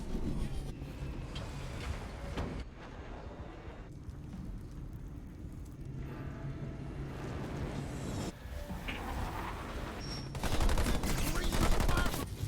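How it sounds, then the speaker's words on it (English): Video game battle with enemy ground troops firing on Marines: rapid bursts of gunfire and explosive crackle come in dense waves, while a commentator talks over the fighting. "Marines under fire from enemy ground troops."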